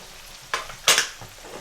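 Potatoes with pickle spices in a pan for Punjabi achari aloo get stirred in two short scraping, sizzling bursts over a faint frying background.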